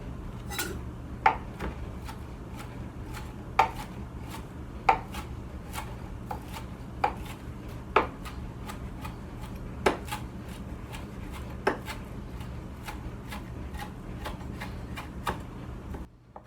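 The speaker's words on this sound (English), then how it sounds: "But I'm going to chop them by hand." A knife chops parsley by hand on a cutting board, giving sharp, evenly spaced taps roughly every second over a steady low background hum, close and fairly loud with no talk.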